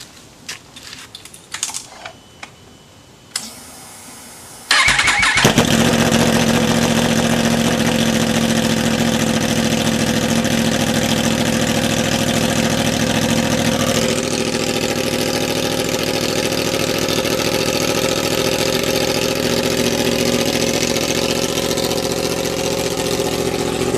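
A few clicks and rattles, then a motorcycle engine fires up loudly from a cold start and settles into a steady, rumbling idle that continues without letup.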